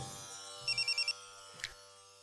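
A phone rings with a quick electronic trill of five rapid beeps, fairly faint over a low steady hum.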